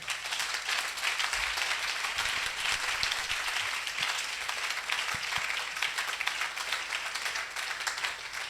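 A congregation applauding during a church anointing service, dense sustained clapping from many hands that fills the room evenly from start to finish, with no clear voices above it.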